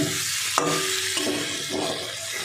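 Prawns, potato and pointed gourd frying together in spiced oil, a steady soft sizzle with light stirring scrapes throughout, close and without any talking.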